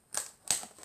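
Two sharp mechanical clicks from a pliers-type tool working on a paper craft piece, crisp and close, spaced about a third of a second apart.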